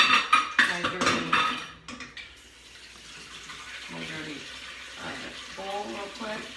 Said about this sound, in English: I'm gonna put some water in here to soak